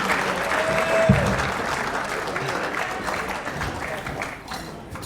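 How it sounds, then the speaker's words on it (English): A crowd at an amateur football league awards presentation night keeps up dense, sustained applause for volunteers leaving the stage, with faint voices mixed into the clapping. "keep the applause going for all of our volunteers as they leave the stage tonight"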